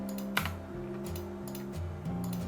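Rapid computer keyboard typing while entering commands in CAD drafting software, with a sharp key strike near the start and softer clicks over steady background music.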